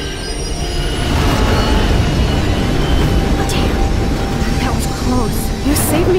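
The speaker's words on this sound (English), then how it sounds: "The train's coming!" An approaching train in the video game Life Is Strange, a loud continuous low rumble of rolling wheels with rising metallic squeals and clatter, heard beneath shouting voices.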